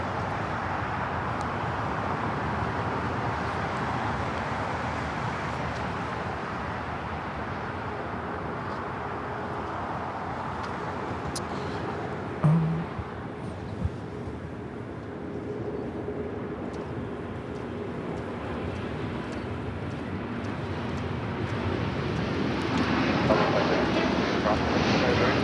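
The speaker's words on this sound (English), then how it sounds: "That was LL Flight 6 taking off to Tel Aviv on the 787-9 Dreamliner in the retro livery" An El Al Boeing 787-9 Dreamliner in retro livery takes off from foggy LAX bound for Tel Aviv, a steady distant jet roar with wind buffeting that swells slightly toward the end.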